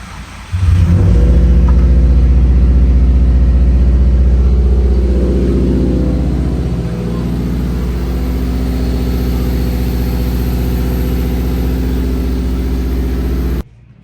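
A 2011 Subaru WRX STI engine cranks and fires up loudly, revs briefly, then settles into a steady close rumbling idle that runs until it cuts off near the end.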